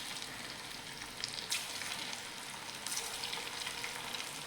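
Fasting pakode fritters sizzle steadily in hot oil, a close, continuous crackle with a few brighter spits and no voices.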